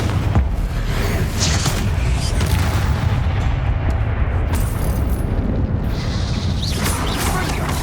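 Confringo blasting spell explosions in Hogwarts Legacy, a loud continuous rumble of booming blasts with bursts of crackle, dense and close throughout.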